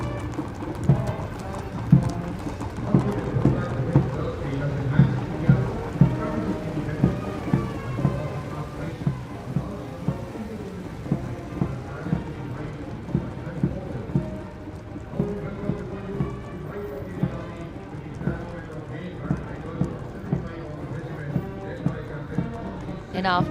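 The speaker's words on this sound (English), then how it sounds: "after the clip-clop of the horse hooves on the tarmac" Horse hooves clip-clop on tarmac during a Republic Day parade, a steady rhythmic clatter of many mounted horses passing, with an announcer's voice over it and a rumble of crowd and ambience beneath.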